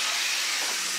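Broccoli sizzling in hot butter in a pan, a loud, steady, close hiss that holds constant with no pauses.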